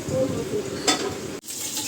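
Fish heads sizzle in oil as they fry for a mung dal, a close, busy crackle with a brief stir or clatter near the middle before it quiets slightly.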